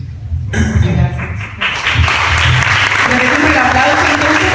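A brief spoken moment gives way to a full round of audience applause for students after a university research thesis presentation at Universidad de Santiago de Chile, with steady close clapping filling the rest of the clip.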